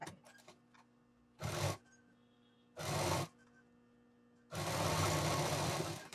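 Short whirring bursts from a sewing machine stitching a bag lining, with two quick runs followed by a longer continuous stretch of stitching, close and clear.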